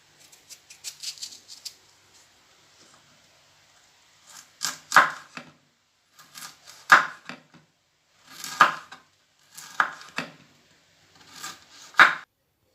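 A knife dices ingredients for chicken wing noodles on a cutting board in quick clusters of sharp chopping strokes, separated by short pauses, close up with no talking.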